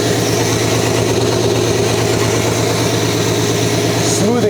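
A 1956 Chrysler Windsor engine idles steadily and loudly up close, a dense, even rumble that runs without a break.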